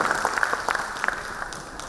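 An audience claps to welcome the Chief Minister at the Karnataka Bhushana 2025 awards ceremony held by the Karnataka Media Club, giving a brief, moderately loud patter of scattered hand claps under a hall's murmur.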